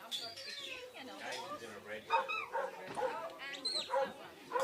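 Sheepdog working sheep at a three-sheep and yard trial, with short dog whimpers and yips among bird calls and outdoor noise, under a commentator's voice talking throughout.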